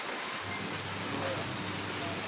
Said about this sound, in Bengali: তো তারপরে নেমে গেল বৃষ্টি।